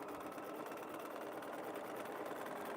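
A sewing machine stitches at a quilting table, a rapid, even mechanical chatter that runs without a break, quiet and close, with no talk.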